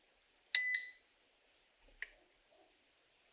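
A T2310 timer relay cycling on and off, giving a bright beep-like click followed by a few fainter clicks in a quiet room, with no voices.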